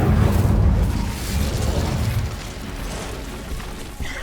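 A broad, sustained roaring burst of flame from the Incendio fire spell in Hogwarts Legacy, strongest at the start and rumbling steadily before easing off, with no voices.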